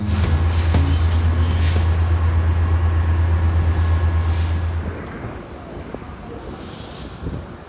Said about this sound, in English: First, I would catch some parked Metrolink trains